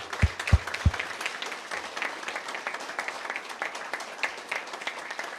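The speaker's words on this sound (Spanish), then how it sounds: "Y le damos ahora un aplauso de reconocimiento" Audience applause fills a hall in Chiapas, a brisk and even patter of many hands clapping for several seconds, with a few low thumps near the start.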